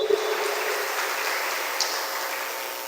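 A church congregation applauds in praise, a soft, steady patter of many hands clapping that sounds somewhat distant and thin, continuing evenly without talk.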